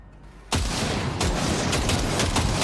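Gunfire in Cyberpunk 2077 during target calibration, a loud shot after a quiet start followed by a run of sharp, closely spaced reports and booming echoes.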